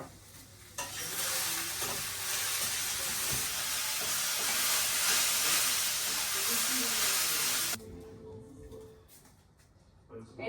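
Vegetable bhaji sizzles loudly in a pan on a single home stove, a steady bright frying hiss with stirring scrapes that cuts off near the end, leaving a quieter room.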